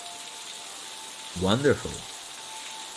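Rain falls in the video game Necrobarista as a soft, constant hiss, with a single spoken word rising briefly over it midway.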